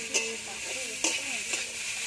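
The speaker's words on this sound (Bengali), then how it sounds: "ভালো করে ভেজে নিতে হবে" Beans and pui mituli frying in a pan with a steady, close sizzle, punctuated by a few sharp scraping stirs of a spatula.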